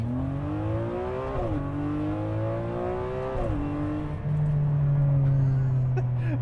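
A Ferrari 599 with its V12 accelerates hard, the engine climbing in pitch and dropping at each quick paddle-shift gear change. The loud, steady roar runs throughout.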